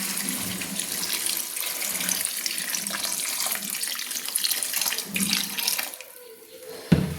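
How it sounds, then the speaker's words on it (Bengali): Water poured into a cooking pot of cauliflower, potato and spiced vegetables for a sour bata fish dish, a steady close splashing rush lasting several seconds, then easing off with a brief clunk at the end. "এবার আমি জল অ্যাড করে দিচ্ছি।"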